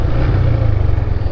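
A motorcycle engine drones steadily and close during an off-road ride, a continuous low rumble with a faint whine and no gear changes over the short stretch.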